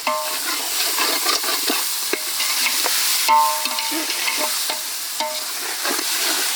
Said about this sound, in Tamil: பாய் காதர் பாய், காடையை போடுங்க உள்ள